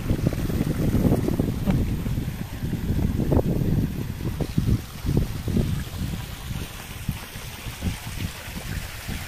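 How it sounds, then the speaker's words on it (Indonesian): Wind blows outdoors in a Garut Kidul village near a small clear stream and rice fields, rumbling gusts buffeting the microphone with a constant airy rush and no talking. "Angin sepoi-sepoi kayak gini."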